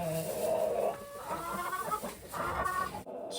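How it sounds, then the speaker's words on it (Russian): A rooster being carried into a heated henhouse on a freezing day clucks and murmurs close by in a steady run of throaty calls, then falls quiet at the very end. "Несу вам петуха вашего."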